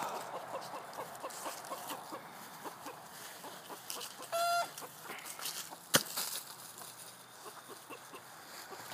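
A rooster gives repeated clucking calls at close range over a steady farmyard background, with one sharp louder squawk partway through and no talking.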